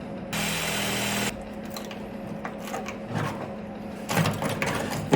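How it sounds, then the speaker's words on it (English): A step drill boring out stuck screws on a rusty 1964 Datsun 320 truck. One loud, steady, high whine lasts about a second, followed by rougher grinding bursts and scraping nearby. "Oh no, step drill, what are you doing?"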